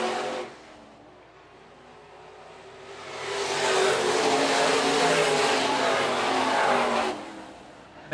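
Sport mod race cars at Phillips County Raceway, a dirt oval: engines roar up loudly as the pack sweeps past, hold a few seconds of hard revving, then fade back to a distant drone.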